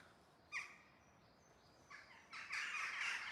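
Faint crows caw a few times, in short separate calls and then a longer burst, in a forest around an abandoned castle in Scotland, heard quiet and distant with no one talking.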